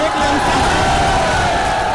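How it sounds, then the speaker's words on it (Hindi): A large crowd applauds and cheers for the people of Kannauj at a political debate event, a steady dense wash of clapping filling the whole stretch without pause. "एक बार जोर से कन्नौज के लोगों के लिए ताली बजा दीजिए"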